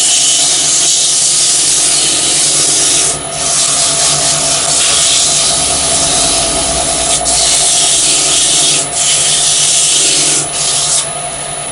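Sandpaper rubs over wood wet with walnut finishing oil, giving a loud, close, continuous scratchy hiss with brief dips between strokes and no talking throughout.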